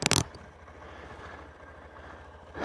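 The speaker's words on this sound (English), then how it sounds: "the bike is idling." A Honda CB125F motorcycle engine idles quietly after a spark plug and valve service, a low steady rumble heard after a brief loud clatter at the start, with another knock at the end.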